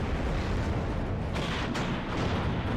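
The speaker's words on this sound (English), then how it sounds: "Look at this artillery coming in." Artillery shelling in a large battle in the Cold War strategy game WARNO, a steady dense roar of distant blasts and rumbling impacts that never lets up.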